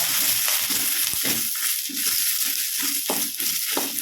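About twenty regular and Kashmiri dried chillies fry with onions for a hamour fish curry: a close, continuous sizzle broken by rhythmic stirring scrapes.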